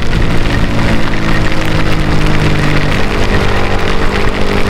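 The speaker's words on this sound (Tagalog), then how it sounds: "Yan, lumalakas na lalo yung ulan" Loud, dense rain roars steadily close by, mixed with rushing wind and a low engine drone, heard while riding a Suzuki Raider J Crossover / Sniper 155 VVA motorcycle.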